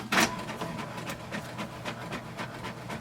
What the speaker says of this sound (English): Select the number of pages and wait for the print to come.